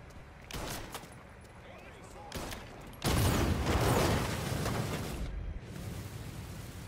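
Gunshots in the Mafia video game arrive as a few sharp separate cracks, then a longer dense burst of gunfire lasting a few seconds, mid-distance and fairly quiet overall.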